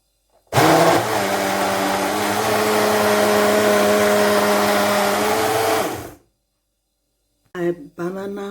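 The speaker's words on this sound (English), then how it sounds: "Now I'm going to go and blend it in the machine now" A kitchen blender whirs loudly and steadily for about five seconds while blending a peanut butter banana smoothie, then cuts out; a voice speaks briefly afterward.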